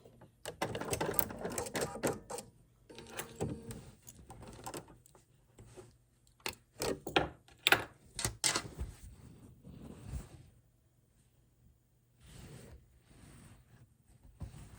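A sewing machine stitches lined napkins in short, rapid bursts of mechanical whirring and ticking, pausing between runs, heard close up in a quiet room.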